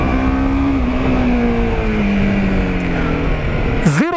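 A TVS Apache RR310 motorcycle accelerating up through first and second gear, its loud engine droning steadily close by, with the pitch easing down after a shift and then a quick rising rev at the end.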